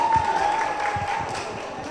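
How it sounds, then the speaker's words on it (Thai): An audience applauds a doctor at a Move Forward Party members' gathering in Bangkok, a dense, steady wash of many hands clapping that holds for the whole moment, with a faint sustained tone running underneath. "ขอเสียงปรบมือให้หมออาร์ตนิดนึง"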